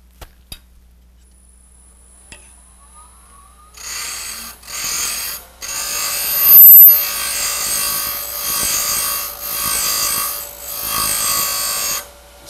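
A scoochie gouge scrapes and rubs inside a hole in a wooden staved box to enlarge it, in several close, loud rasping strokes after a quiet start, with no talking.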